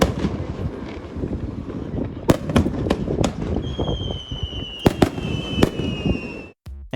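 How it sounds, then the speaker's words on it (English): Fireworks at an Osaka cruise port send-off crack and pop in a loose series of sharp, near bangs, with thin whistling streaks rising over a rumbling crowd and background noise. "Later that night, they sent us off with fireworks."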